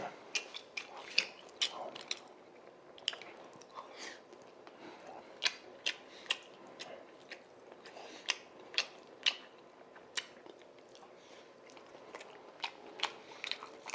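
Close, crisp bites and chewing of assorted Korean jeon pancakes, including zucchini pancakes, and spicy stir-fried pork, with sharp crunchy transients recurring irregularly over a quiet background and soft murmurs between bites.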